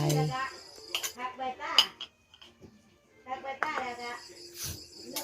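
A metal utensil stirs prepared garlic in a cooking pot while coconut-milk noodles are made, giving irregular clinks and scrapes against the pot with a voice talking over them.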